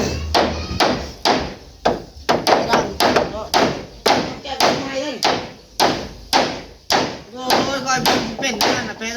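Repeated hammer blows pound nails at a home work site, a steady run of sharp thuds about every half second, close and loud, with people talking in the background.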